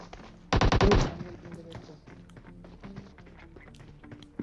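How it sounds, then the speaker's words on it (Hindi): Burst of rapid rifle shots from an MK weapon in a video game battle, a loud quick volley of about half a second near the start, then quieter game sounds and ambient effects. "अब फाइट स्टार्ट हो चुकी है, क्योंकि मैंने एमके के 2 फायर कर दिए हैं।"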